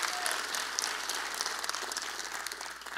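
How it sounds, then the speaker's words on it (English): A crowd gives Rosalind Spigner a big round of steady, full applause that stays strong throughout and tapers slightly at the end. "Give her a big round of applause."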